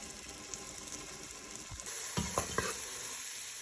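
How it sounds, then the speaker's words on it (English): Chopped onion and garlic sizzle in melted butter in a pan over medium heat: a steady, soft frying hiss with brief crackling bursts partway through, close and quiet, with no voices. "Go ahead and get that onion and garlic into that butter."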